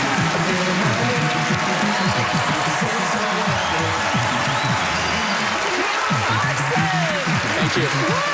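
Studio audience applauding a magic trick's grand finish on Fool Us, a dense, steady wash of clapping that fills the whole stretch, with voices and cheers mixed into the crowd noise.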